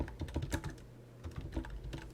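Fingers type on a computer keyboard close by, with a brisk irregular run of key clicks, a short pause, then another burst of clicking.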